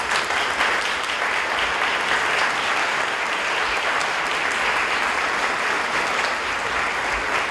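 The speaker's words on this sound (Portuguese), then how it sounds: "a gente pode desde já saudá-lo e dar uma salva de palmas." A church audience gives a sustained round of applause welcoming Dom Antônio, steady dense clapping from a large crowd filling the room without pause.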